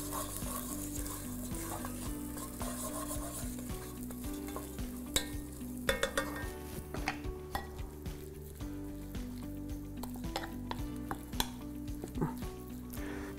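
Chicken frying in a hot pan with a steady, continuous sizzle, with occasional stirring and utensil clinks against the pan, heard close with no talk.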